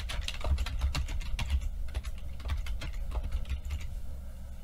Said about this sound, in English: click on the text tool, and then just type whatever it is you want